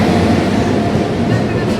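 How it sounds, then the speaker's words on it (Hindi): Sachkhand Express pulling into an Indian railway station, a steady loud rumble of the train with continuous rolling noise and no clear pauses. "यहाँ सचखंड एक्सप्रेस का आगमन"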